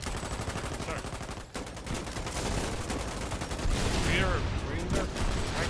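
Gunfire in the Foxhole war game, a dense stretch of overlapping rifle and machine-gun shots crackling steadily throughout, growing louder toward the end, with voices faintly talking underneath.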